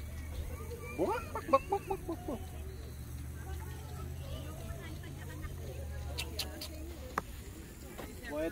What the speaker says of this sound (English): black afro chicken